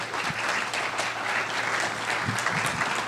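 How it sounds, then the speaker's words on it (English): Applause from the audience at a residents' council meeting, a continuous, moderately loud patter of many hands clapping with faint crowd murmur beneath. "So let's give him a round of applause"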